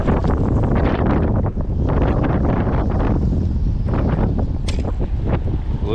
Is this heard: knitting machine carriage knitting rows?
no